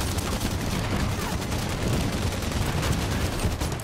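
Gunfire in a shooter video game, a loud continuous barrage of rapid overlapping shots and bursts, dense and close throughout with no pauses.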